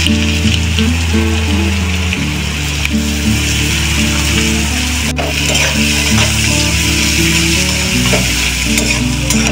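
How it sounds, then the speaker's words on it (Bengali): Chopped onions frying in oil over whole spices such as cinnamon in a home kitchen, a steady sizzle with stirring scrapes, carried under continuous background music. "এবারে পেঁয়াজ কুচনোটাকে দিয়ে ভালো করে ভেজে নেব।"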